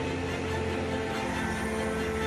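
A Boeing 787 Dreamliner airliner departs Heathrow, its jet engines giving a steady, moderately distant droning rumble with sustained tonal hum, no voices over it.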